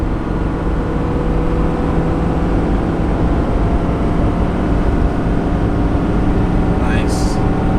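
A 2021 Ford F450 Platinum pickup towing a 14,000-pound fifth wheel up a 6% grade, a loud, constant low engine and road drone filling the cab, with a brief chirp near the end.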